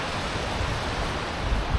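Sea wind gusts across Laem Mae Phim beach in Rayong on a bright, sunny day, a loud, rough rush of air and surf-like noise buffeting close to the microphone without a break.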